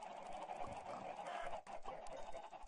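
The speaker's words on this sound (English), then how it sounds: "I have so much chickens. I need to build a new enclosure for them." Several chickens clucking in the Minecraft video game, short close clucks repeating irregularly over a faint background, with no talking.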